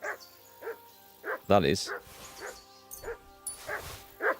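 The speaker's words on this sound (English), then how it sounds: "What is the sodding dog barking at?" Barking dog in the video game Kingdom Come Deliverance 2, several short, regular barks in a rhythmic run, with someone talking over them partway through.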